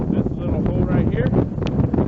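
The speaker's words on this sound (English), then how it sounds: "It is really windy." Strong gusty wind roars across a high mountain trail on Longs Peak, buffeting loudly and close, while a person talks over the blustery rush.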